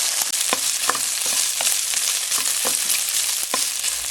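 Softened pork, cooked until its liquid dried off, browns in a pan with a steady close sizzle, punctuated by regular scraping strokes of a spatula stirring it.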